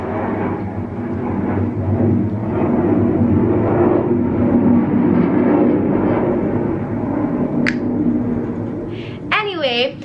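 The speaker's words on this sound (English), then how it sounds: "you guys know how it is when the planes pass" An airplane passes overhead as a sustained, loud roar that swells and fades over several seconds, and a person talks through it.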